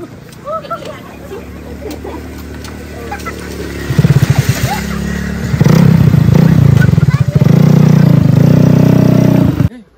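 A motorcycle engine revs and rumbles up close, growing louder partway through and staying loud, with people talking over it.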